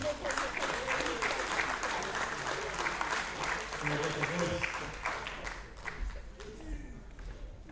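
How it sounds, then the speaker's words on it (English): Applause from an audience at the New Zealand men's powerlifting championships honoring the lifters, a steady wash of clapping that stays loud throughout, with voices mixed into the crowd noise. "Round of applause for the lads"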